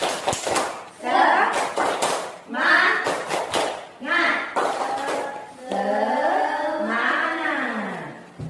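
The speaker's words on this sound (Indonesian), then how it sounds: "Tepuk semangat." A classroom of students doing a rhythmic spirit clap in short bursts of sharp hand claps, separated by brief pauses. Young voices chant along near the end.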